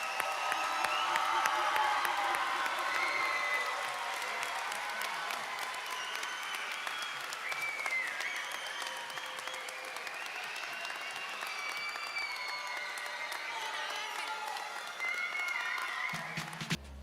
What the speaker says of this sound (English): Now let's give one more round of applause for our 2026 completers.